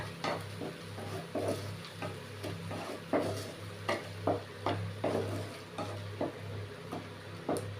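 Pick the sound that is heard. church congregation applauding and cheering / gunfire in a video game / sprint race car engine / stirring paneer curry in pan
stirring paneer curry in pan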